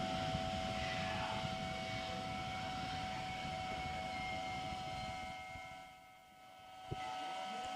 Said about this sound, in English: the New Shepard goes through its final checks and revs up for 6th human flight